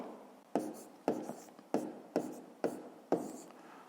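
A pen writing figures on paper during a maths exercise, a steady series of about seven short scratchy strokes, each starting sharply and trailing off, close and quiet with no talk.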